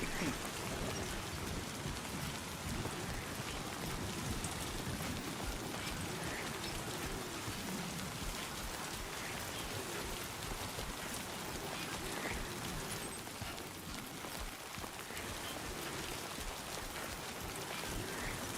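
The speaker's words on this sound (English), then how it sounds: "the rain should actually be aging my packages." Continuous rain falling heavily in the video game Death Stranding 2, a broad steady wash of drops, faint and even, with no clear voices.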